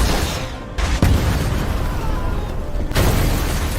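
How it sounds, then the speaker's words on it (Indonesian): An RPG strike blows up a car in an action film, with a heavy boom followed by a dense, roaring rumble of blast and debris that fills the whole stretch at close range. "sebuah serangan RPG sukses membuat satu mobil pengawal Donovan meledak."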